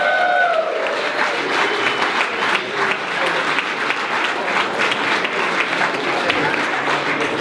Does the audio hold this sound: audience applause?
yes